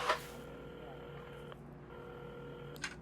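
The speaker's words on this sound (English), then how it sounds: "at the counter, Carmen had started dialing the phone" Telephone dialing in the video game Assemble with Care: a steady electronic tone pattern with a short break midway, quiet and clean, bracketed by faint clicks, with no voices over it.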